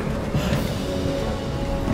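Thunderstorm in the video game It Takes Two, heard as a dense, steady wash of rain and rumbling thunder that stays loud and constant throughout, with no voices present.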